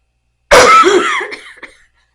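A single throaty cough or throat-clearing from someone with a virus and mild chest congestion, one close, loud burst that trails off quickly, heard alone with no talking.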